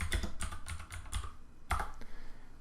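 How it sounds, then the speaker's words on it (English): Fingers tap a computer keyboard nearby in a quick run of keystrokes, pause briefly, then strike a few more keys, with no voices. "If I were to type flip a coin"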